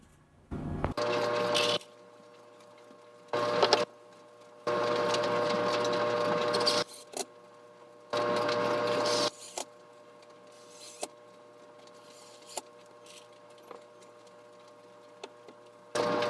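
A powered driver sets screws to fix horseshoes onto a coat rack: four separate whirring runs of a second or two each, with quiet gaps and a few faint clicks between them.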